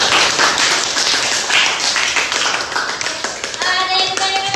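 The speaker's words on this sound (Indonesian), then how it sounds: "kita beri aplaus dulu buat Asbil dan Nila" Classroom applause for two students after their group presentation, a dense burst of many hands clapping together that carries on steadily, with a few bright tapping sounds toward the end.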